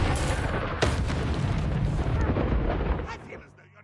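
An Expelliarmus spell cast in the Hogwarts Legacy video game, heard as a loud blasting magical burst with a rumbling boom and a sharp crack, fading out over a few seconds.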